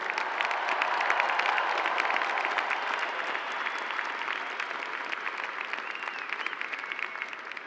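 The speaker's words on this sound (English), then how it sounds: "Can we give a round of applause for all of today's graduates?" Commencement audience applauding graduates at a university ceremony, a dense, steady wash of many hands clapping that fills the hall for several seconds with scattered cheers mixed in.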